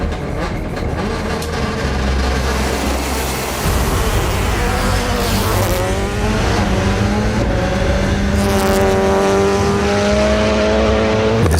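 A Subaru rally car pulls away on a record run, its engine revving hard and rising through the gears with loud, continuous acceleration and repeated upshifts building in pitch close by.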